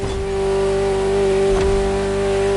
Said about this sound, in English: The greatest sports car ever made. And again, at the time, fastest Ferrari ever created.